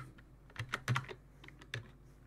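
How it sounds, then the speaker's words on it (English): Keys on a computer keyboard clatter in a quick irregular run while a name is typed during a Windows NT 4 install: close, crisp taps in short bursts with brief gaps, no talk. "I'm gonna type my name."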